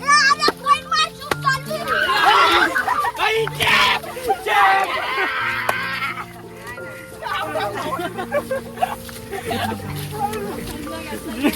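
A group of children shout and call out excitedly while playing kabaddi outdoors, their lively voices rising and falling in bursts over the whole stretch.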